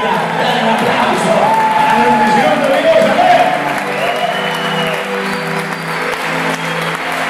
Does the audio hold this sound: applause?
yes